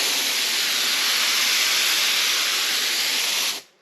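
Liquid adhesive sprayed onto a boat seat in heavy lines, one continuous close hissing spray that holds steady for several seconds and then stops abruptly.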